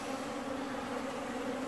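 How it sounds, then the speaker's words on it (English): Honey bees buzz steadily around an open single hive in a Newfoundland September beekeeping session, a dense continuous drone close by with no talk. "Nice little bees"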